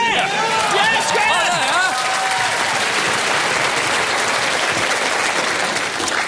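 Studio audience bursting into sustained applause and cheering, dense clapping that carries on after a few opening shouts and whoops.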